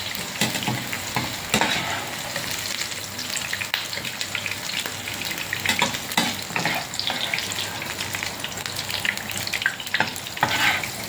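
Onion frying in oil in a pan, a steady close sizzle and crackle that runs throughout, broken by repeated spatula scrapes and stirring knocks, with no voices.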